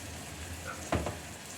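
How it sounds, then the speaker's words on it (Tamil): Onions sautéing in hot oil with salt, chilli powder and turmeric powder give a faint steady sizzle, with a brief louder stir or scrape near the middle; no talking. "நல்லா போட்டுட்டு நல்லா வதக்கணும்"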